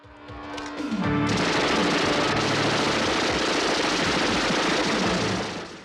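Automatic gunfire in a scene from the zombie film Day of the Dead: one loud sustained burst of rapid shots begins after a second and runs to the end with no voices.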